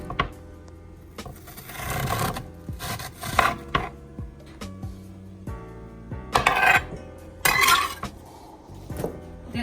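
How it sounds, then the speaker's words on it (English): A knife chops onions on a cutting board in a home kitchen for a vegan pizza, with irregular knocks and clinks spread across the clip, close and fairly quiet, with no voices. "I always cut my onions like this"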